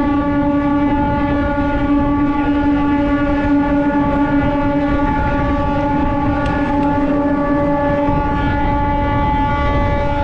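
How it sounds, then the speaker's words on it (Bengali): A Santragachi–Jhargram MEMU train pulls out of Panskura junction with a continuous loud, steady horn drone over the rumble of the rolling carriages for the whole stretch. "এই পাঁশকুড়া ছেড়ে বেরিয়ে গেল আমাদের ট্রেন"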